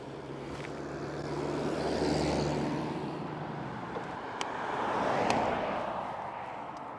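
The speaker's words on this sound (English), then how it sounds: "we're going to wait for these cars to pass" Two cars pass one after another on a road, each swelling and fading as it goes by, heard from the roadside before an e-bike top speed test.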